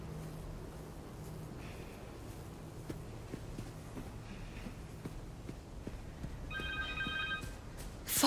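A telephone rings briefly in the video game Marvel's Spider-Man 2, a short electronic trill near the end over a steady ambient hum with faint footstep-like thuds.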